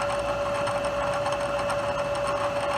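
A milling machine takes about half an inch of material off a part, giving a steady high-pitched whine with a continuous cutting hum, loud and close, with no talking.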